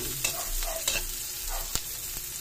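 Onion and garlic sautéing in a pan for a Filipino lumpia togue filling, a steady close sizzle broken by a few sharp scrapes and clicks of a spatula stirring, with no talk.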